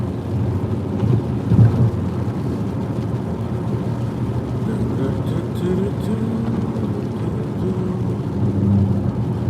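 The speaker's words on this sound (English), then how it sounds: "Starting to get a little rain and snow mix." Rain and snow mix falling outdoors, a steady dense hiss of precipitation with a low rumble beneath, constant and moderately loud throughout.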